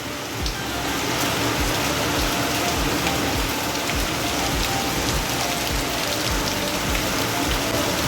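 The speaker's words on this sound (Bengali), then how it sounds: "বন্ধুরা ব্যাপক আকারে বৃষ্টি হচ্ছে" A downpour of heavy rain drums close by, a dense, steady wash of drops on surfaces that holds at the same level throughout, with no voices.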